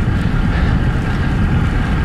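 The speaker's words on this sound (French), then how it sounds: "Un peu de vent, ça fait du bien." Steady wind roars and buffets the microphone while cycling downhill on Mont-Royal toward Côte-des-Neiges, a loud, continuous low rumble with no break.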